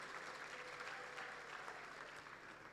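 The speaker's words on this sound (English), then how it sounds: "Another round of applause." Steady applause from an audience at a citizens of the year awards ceremony, a dense even wash of clapping held at a distance with no talking over it.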